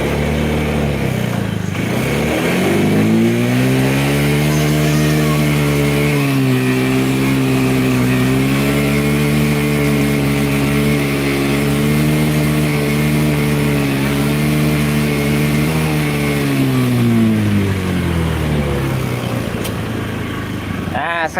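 A carburetted Honda motorcycle engine suffering from a loss of power is revved up high and held there for a long stretch, its pitch wavering slightly before dropping back near the end.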